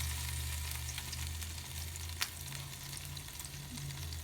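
Bonito fish pieces frying in a sugary marinade give off a steady, close sizzle that runs unbroken throughout, with a low hum beneath and one brief sharp crackle partway through.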